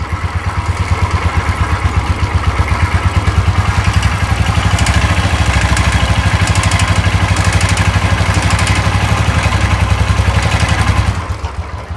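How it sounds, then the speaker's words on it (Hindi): A Royal Enfield motorcycle engine runs in third gear under light braking, a steady mechanical chug with a rapid, regular knocking pulse throughout, close and loud, before it cuts off sharply near the end. "और अब इसके नॉकिंग की आवाज़ सुनेगा"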